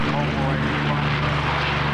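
A B-17 heavy bomber droning past at a warbirds air show, its propeller engines making a steady, loud, throbbing roar that holds level throughout.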